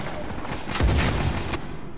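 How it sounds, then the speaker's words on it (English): Rapid sniper rifle shots in an Uncharted 4 multiplayer match, a fast string of sharp reports over a steady game background with a heavier thump in the middle. "he has got a high rate of fire on his sniper over at Alpha"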